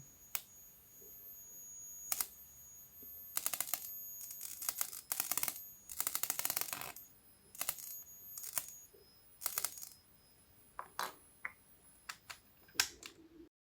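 Sparks snapping inside an alpha radiation spark detector as a radiation source is brought close: irregular, sharp, dry crackles in bursts and isolated clicks, some clustered rapidly, fairly faint and heard alone without speech.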